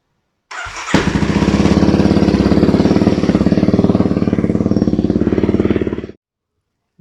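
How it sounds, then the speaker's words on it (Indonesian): A Kawasaki KLX 230 motorcycle fitted with an Airspeed exhaust from Roda Jaya runs at close range, a loud, rapid, even throb for about five and a half seconds before cutting off abruptly into silence. "Sekalian tes sound nih untuk knalpotnya, mungkin yang belum pernah dengar knalpot Airspeed dari Roda Jaya"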